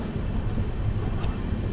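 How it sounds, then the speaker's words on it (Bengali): Black Diamond Express LHB train pulling away from Barakar station, a steady low rumble and rolling rail noise filling the whole stretch with no voices. "তো বরাকর থেকে আমাদের ট্রেন ছেড়ে দিল"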